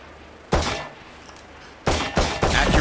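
Gunfire at a flying target in Valorant: one sharp loud shot, a pause, then a quick burst of several shots in close succession, crisp and close with no talking.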